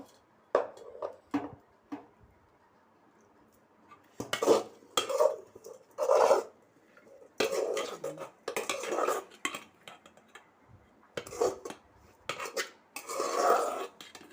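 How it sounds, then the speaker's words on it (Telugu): A metal spoon scrapes and clanks against a cooking pot while ragi flour is stirred in to make ragi sangati, in irregular bursts of clattering separated by short pauses, fairly close and with no talk. "పొడి వేసేసి బాగా కలబెట్టేస్తుంది"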